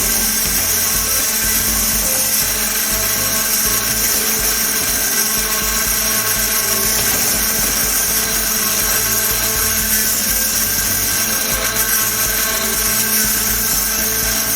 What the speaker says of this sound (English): During the grinding process, according to the actual grinding effect, we could rotate the vertical micrometer to increase the grinding depth